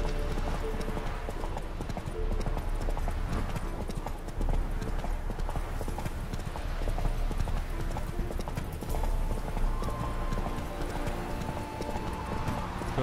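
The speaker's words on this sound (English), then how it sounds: "I wonder if next time I call my horse it will be this guy instead of Roach" Horse hooves clip-clopping steadily in The Witcher 3: Wild Hunt, a continuous fast rhythmic trot that stays loud and close throughout, with occasional faint game sounds mixed in.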